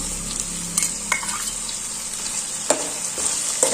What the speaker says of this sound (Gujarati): તેને પણ મિક્સ કરી દેશું અને થોડું સાતડી લેશું